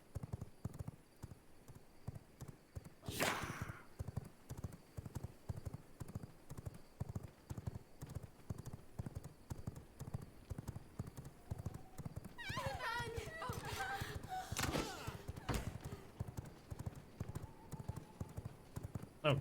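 Horse hooves clip-clop in a fast, steady gallop through V Rising, a dense rhythmic patter that runs the whole stretch, with brief voice-like bursts and whooshes breaking in near the end.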